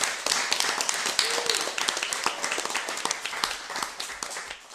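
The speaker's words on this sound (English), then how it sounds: "Everyone deserves a big round of applause." A London audience applauds at the close of a live game-show recording, a scattered crowd of individual claps, crisp and fairly close, steady throughout and tapering slightly toward the end.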